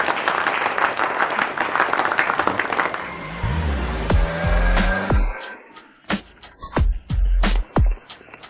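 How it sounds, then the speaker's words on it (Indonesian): An audience at a formal gathering applauds loudly for about three seconds, and the clapping then fades into scattered thuds and knocks. "Mari kita berikan tepuk tangan yang meriah"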